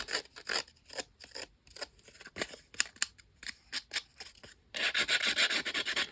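Paper edges roughed up by hand for an altered book page, a series of short dry rasping scrubs in an irregular rhythm, close and crisp, ending in a denser continuous scratching burst, no talking.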